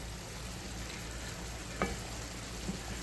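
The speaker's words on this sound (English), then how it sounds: "We're gonna let this simmer about 2 to 3 minutes" Food simmering in a pan over turned-down heat while making bibimbap gives a steady, soft sizzling hiss that runs the whole time, with a faint clink or stir near the middle.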